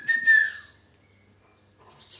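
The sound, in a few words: whistled signal imitation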